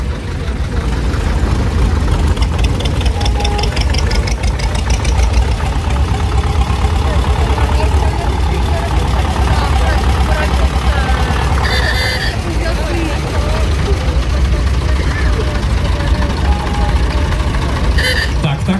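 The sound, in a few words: green tractor engine idling at tractor show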